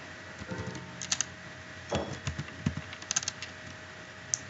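Keys tap on a computer keyboard in short irregular bursts of clicks, sometimes single strokes and sometimes quick clusters, close and fairly quiet against a faint steady hum.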